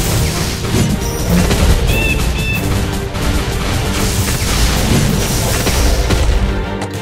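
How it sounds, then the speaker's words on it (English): Blunderbuss gunfire in the tower defense game Realm Defense, heavy booming blasts and crashes layered in a loud, continuous battle mix with music, no voices. "This is a blunderbuss. This is my boomstick."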